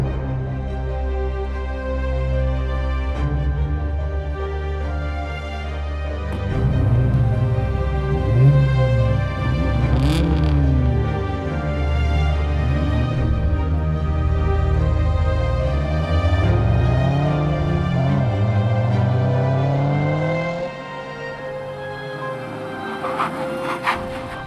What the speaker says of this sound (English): we'll see how long it takes for this car to slow down